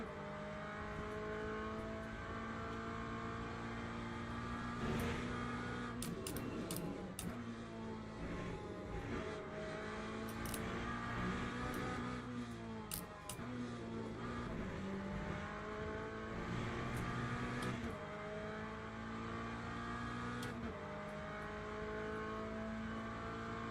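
A GT3 race car engine in a racing game, heard as layered droning engine tones that rise and fall with shifts and revs, moderately loud and steady with no talking.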